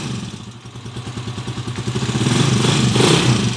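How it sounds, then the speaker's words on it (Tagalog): An overhauled Pinoy 155 motorcycle engine runs after valve clearance adjustment, its rapid, even thumping firing pulses carrying a light rhythmic rocker-arm tick, close and fairly loud, revving up slightly toward the end. "May konting lagitik na lang mga bro dahil sa rocker arm"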